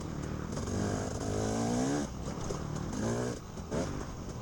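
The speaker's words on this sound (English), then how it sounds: "I hear another 4-stroke behind me" A four-stroke dirt bike engine rides close behind during a hare scramble race, revving and rising in pitch in surges, loud and rough over the rider's own engine noise.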